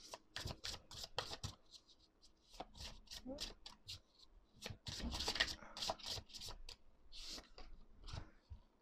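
Rapid, crisp riffling and flicking of gemstone and crystal oracle cards in several bursts, fairly close, with soft handling noises in between.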